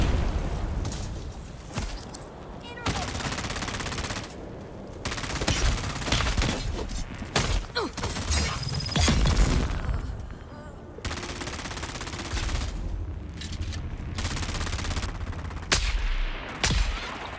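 Video game gunfire rattles in rapid automatic bursts and single shots, loud and dense, with brief pauses between volleys and occasional booms.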